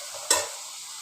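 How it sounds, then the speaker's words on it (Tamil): Onions and curry leaves going into hot oil in a pan for mutton curry, a single sharp burst of sizzle that quickly settles into a quiet steady fry. "வெங்காயம் ஒரு 150 கிராம் எடுத்து அதில் கொஞ்சம் கருவேப்பிலை போட்டு நான் வதக்கிக்குவேன்."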